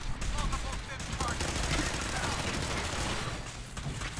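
Gunfire in a Fallout 4 firefight: steady, dense bursts of shots, close and loud, continuing throughout with a voice talking over the shooting.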